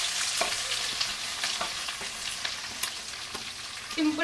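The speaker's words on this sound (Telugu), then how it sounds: "ఇప్పుడు మనం ఉల్లిగడ్డలు వేసుకుందాం అన్నీ." Chopped onions drop into hot oil already tempered with urad dal, chana dal and cumin for a puri curry, giving a steady, close, loud sizzle with scattered crackles and a brief stirring clatter near the end; no talking.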